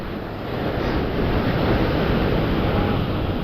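Sea waves break steadily against a rocky shore on the Kanyakumari coast during shore fishing, a continuous loud wash of surf with wind buffeting the microphone and no talk.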